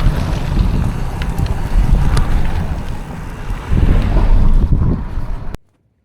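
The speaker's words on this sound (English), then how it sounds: "The wind's picked up a bit." Wind gusting steadily during a day trip around Poperinge, a broad rushing roar with buffeting surges that rise and fall, close and fairly loud on the microphone, with no talk, ending abruptly.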